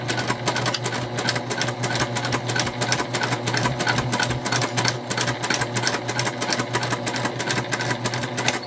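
A domestic sewing machine runs stitching a fabric seam at a 3/8 inch allowance, giving a fast, steady mechanical whirr with rapid regular clicking for the whole stretch, close and alone.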